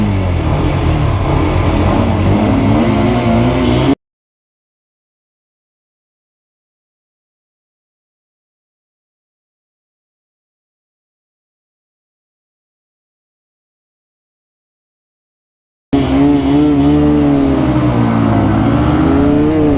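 Yamaha R15, Bajaj Pulsar RS200 BS3 and 220F motorcycles race off together, their engines revving hard with rising, sweeping tones in two bursts separated by a long stretch of dead silence.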